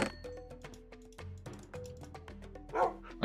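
Short, high yips and barks from dogs in the Minecraft video game, scattered quickly over a busy layer of game effects and clicks.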